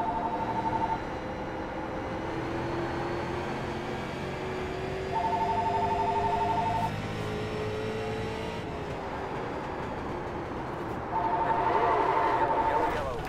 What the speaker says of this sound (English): phone ringing during the video.